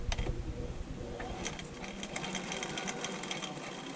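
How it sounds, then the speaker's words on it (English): Husqvarna Viking 6460 sewing machine stitching in reduction gear at a six millimetre stitch length, producing a quiet, fast, even mechanical clatter that runs continuously from start to finish. "We're gonna sew just a little bit, six mil stitch length."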